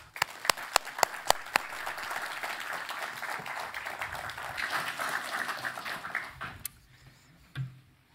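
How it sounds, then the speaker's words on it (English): Audience applause greets a speaker at the Hanaholmen Initiative Summit 2023 in a conference hall, opening with a few sharp individual claps that swell into steady, fairly distant clapping before tapering off into near quiet. "Please join me in welcoming Gunvor with a warm applaud."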